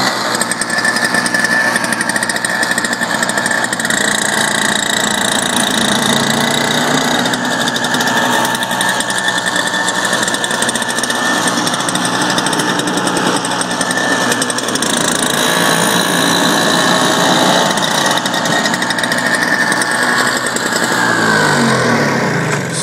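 A Toro snowblower runs steadily at close range, its engine drone and churning discharge of snow continuing without a break throughout.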